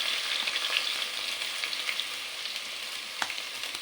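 Green chili, ginger and garlic sizzling in hot oil with mustard seeds and cumin for a fish curry, a dense continuous crackle with small pops throughout, close and steady, with no speech.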